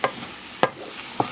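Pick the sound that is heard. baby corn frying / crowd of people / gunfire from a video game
baby corn frying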